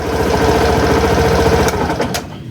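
Suzuki Burgman Street scooter engine running at a steady idle, a close, loud, rhythmic low chugging that continues evenly before a couple of sharp clicks near the end as it dies away.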